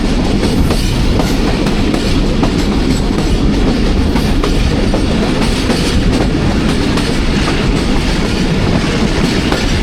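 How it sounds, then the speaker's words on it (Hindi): Steady loud rumble and rhythmic clickety-clack from inside the Thal Express as it runs between Jand and Multan and the locomotive pilot notches up, heard continuously and close with no voices. "नौचअप कर दिया जी एक बार दोबारा शाह जी ने।"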